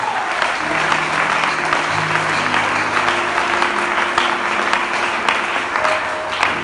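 A church congregation gives sustained, even applause, a dense wash of clapping hands throughout, with a faint held musical tone underneath.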